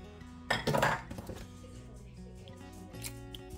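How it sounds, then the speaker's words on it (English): Dairy spooned into a bowl of chicken and spices clatters with a loud burst of utensil clinks against dishware, then settles into quieter scattered taps and scrapes. "the cottage cheese and sour cream are going in"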